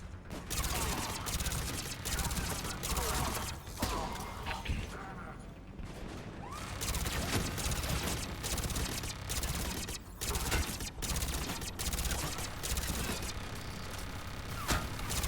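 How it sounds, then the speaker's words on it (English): Sustained turret gunfire in a Mass Effect firefight, a dense loud stream of rapid shots and mechanical clatter running continuously with little pause. "Get that turret over there to kill him."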